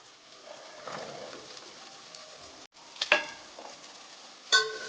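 Green peas and chopped carrot are tossed into a pan of cooked tomatoes for vegetable pulao, giving a soft sizzle and a few sharp clinks of utensils against the pan, with birds cooing faintly in the background.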